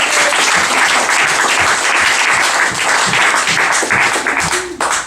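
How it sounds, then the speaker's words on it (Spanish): A church congregation claps loudly and continuously, a dense wash of applause filling the room with faint voices beneath it. "Dame un fuerte aplauso al Padre, al Hijo y al Espíritu Santo de Dios."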